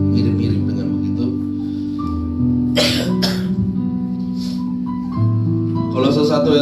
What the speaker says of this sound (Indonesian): saya batuk, kemudian pilek